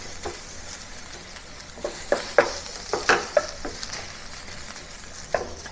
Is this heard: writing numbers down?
no